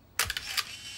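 A camera shutter clicks as a photo is taken: one sharp mechanical snap followed by a couple of quick clatters, close and loud, with no talk.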